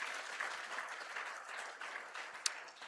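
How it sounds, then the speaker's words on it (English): A graduation crowd at NUST claps for families and supporters, a fairly quiet, even patter of many hands heard from a distance, with one sharper clap near the end as it begins to fade. "A round of applause for them, please."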